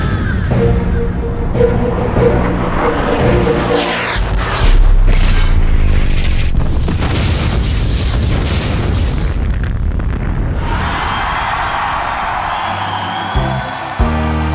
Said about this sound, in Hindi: मिसाइल ने सीधा टाइगर की छोटी तोप पर वार किया